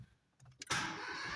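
A car engine cranks briefly with a few clicks, then catches and settles into a steady idle, close and fairly loud, during diagnosis of a fuel rail pressure sensor circuit low fault.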